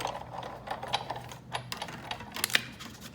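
A die cutting machine pressing card stock through a die makes soft mechanical rolling and clicking with a few sharper ticks near the end, steady and close at low volume with no voices.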